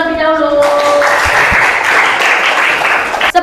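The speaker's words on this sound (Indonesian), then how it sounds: "Sebelumnya kita beri tepuk tangan terlebih dahulu" Classroom applause for a group presentation in a high school class, a dense burst of many hands clapping that starts right after a voice and lasts about three seconds before talk resumes.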